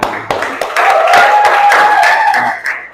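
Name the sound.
audience applause, clapping hands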